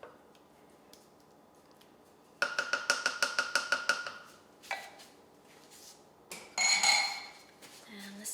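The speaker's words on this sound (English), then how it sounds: "I'm just going to spread that with a spoon" A spoon spreading food in a dish while making Ritz cracker chicken, heard as a quick run of close, rhythmic taps and scrapes on the dish, followed by a few scattered clinks and brief rustles.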